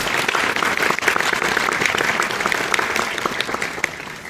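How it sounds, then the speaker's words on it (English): An audience at a distinguished lecture at NTU breaks into dense, steady applause, many hands clapping together at an even level for the whole stretch, with no voices standing out. "Shall we give them a big round of applause?"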